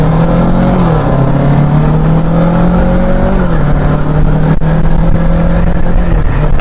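A 2023 Kawasaki Ninja 650 motorcycle engine hums steadily while riding, a loud continuous drone with slight pitch shifts as revs rise and fall, mixed with wind noise.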